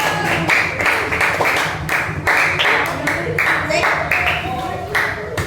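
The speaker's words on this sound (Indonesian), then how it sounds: "beri tepuk tangan, kita tempel sama-sama" Children and teachers clap during a cheerful mathematics training session, a series of sharp, rhythmic hand claps close by, mixed with voices talking over them.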